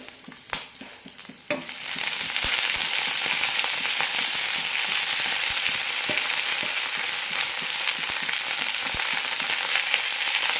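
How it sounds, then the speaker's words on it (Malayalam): Drumstick leaves drop into a pan of roasted lentils, and the quiet crackle swells into a loud, steady sizzle with scattered pops and clicks of stirring. "പരിപ്പുകൾ നന്നായി ചോന്നിട്ടുണ്ട് ഇനി ഇതിലേക്ക് മുരിങ്ങയില ഇടാം"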